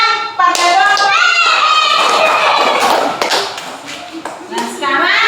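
Second-grade schoolchildren clap hands together in a classroom during a prayer lesson, a loud burst of close, uneven claps with children's voices and chatter mixed in throughout.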